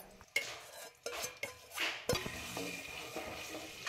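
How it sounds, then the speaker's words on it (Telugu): Tamarind pulp cooks in oil in a pan for amla pickle, with soft sizzling and the scrape and clink of a spoon stirring against the pan in several short bursts. "మనం ముందుగా తీసుకున్న చింతపండు గుజ్జుని నూనెలో వేసుకుని ఉడకనివ్వాలి."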